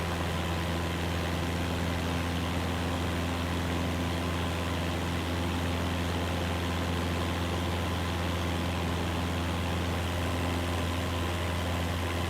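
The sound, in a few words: aircraft engine in Microsoft Flight Simulator 2024 video game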